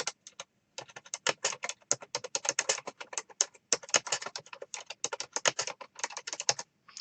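Fingers tap out rapid, uneven bursts on a computer keyboard, crisp close clicks with short pauses between runs and no voices.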